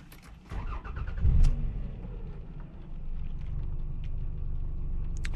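A 1998 Toyota Camry LE four-cylinder engine running on a rainy night, a steady close rumble with a brief louder surge early on, then settling into an even idle hum.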